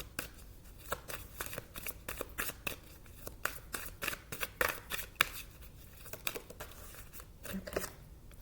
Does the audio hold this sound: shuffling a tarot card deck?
yes